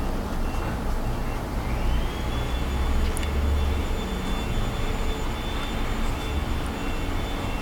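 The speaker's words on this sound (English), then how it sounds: "Sorry about the noise out there, it's a vacuum cleaner." A vacuum cleaner drones steadily throughout, a constant broadband whoosh with a faint high whine, unchanging in loudness.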